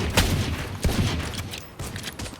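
Gunfire in the tactical shooter Valorant during a spike round: several sharp, loud shots crack out in uneven bursts over a continuous background of game noise.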